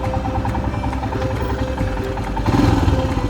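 A Royal Enfield Himalayan idles close by with a steady throbbing rumble and mechanical clatter, picking up slightly near the end, no speech over it.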